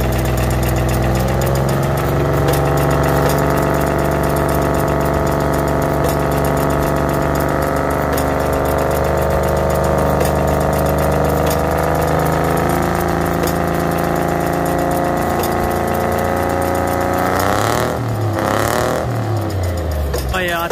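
A diesel engine at a steam and traction rally gives a loud, continuous rumble that holds steady throughout, rising briefly near the end as it revs, with a voice speaking over it.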